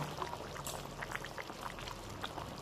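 Pre-boiled peas tipped into a cooking pot of potato and cauliflower tangra fish curry, giving a quiet, steady pouring wash with a faint simmering hiss throughout and no voices.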